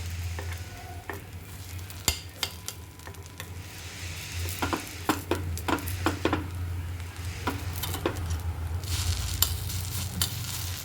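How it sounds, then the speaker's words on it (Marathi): Appe frying in oil over low gas in an appe pan, a soft continuous sizzle close by with scattered taps and scrapes from a utensil over a low steady hum. "त्याच्यावर आपण परत तेल थोडं सोडून घेऊया आणि कमीच गॅसवर होऊन द्यायचे"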